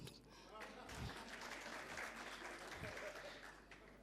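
Steady applause from a conference audience fills the clip, a dense wash of clapping at moderate loudness with some voices mixed in.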